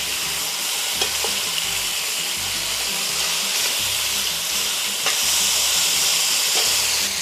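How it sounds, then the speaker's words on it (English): Beef pieces browning in a hot pan for Salvadoran beef soup give off a steady, close sizzle, with occasional scrapes and stirring clatter running under it throughout. "anytime I make soup, I like to brown the meat"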